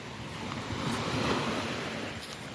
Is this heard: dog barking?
no